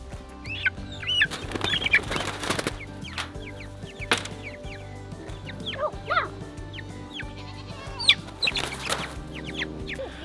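Meat chickens cluck and chatter continuously at close range, with scattered sharper squawks and wing flaps over a steady low hum, and no voices.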